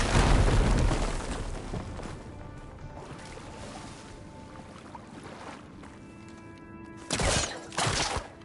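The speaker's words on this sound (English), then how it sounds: "Explosion." An in-game explosion in Horizon Forbidden West inside a collapsing cave erupts as a loud rumbling burst that decays into a long, grinding roar and debris noise, with two further sharp crashes near the end.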